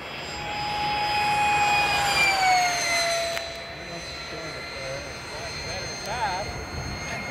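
A model Draken jet on its maiden flight makes a low pass, its turbine whine rising and then dropping in pitch as it goes by, loud at first and then fading, while people talk nearby.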